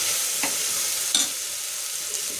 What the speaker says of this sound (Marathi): आणि 1 चम्मच इथं अद्रक लसणाचा पेस्ट टाकायचा।